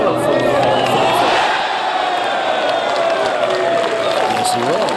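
Golf crowd at the 8th hole of the U.S. Open roaring for Bryson DeChambeau: a loud, sustained mass of cheering and shouting voices that stays strong throughout.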